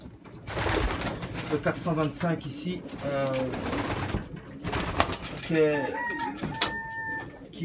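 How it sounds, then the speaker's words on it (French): Top racing pigeons in a loft give soft throaty coos and murmurs, mixed with a few brief clucking sounds. Someone talks over them at close range throughout. "Et tous les pigeons qui sont ici sont vraiment des tops."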